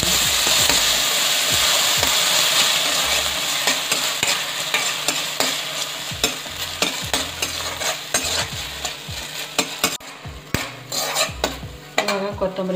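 Tomato sizzles in a pan while a metal spoon stirs and scrapes against it, giving a steady close fry hiss broken by repeated clinks and scrapes that grow sparser toward the end.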